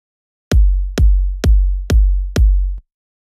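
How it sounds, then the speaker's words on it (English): Five punchy electronic kick drum hits from a trance remix production, evenly spaced about half a second apart, each a sharp click with a deep booming low tail, loud and alone. "Now I'm going to show you the kick drums."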